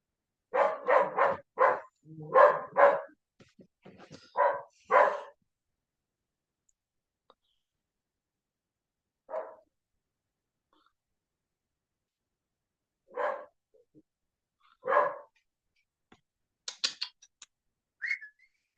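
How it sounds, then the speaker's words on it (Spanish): A dog barks in a quick cluster of sharp, loud barks, then falls quiet, with a few isolated barks and short yips scattered across long silent gaps. "¡El perro!"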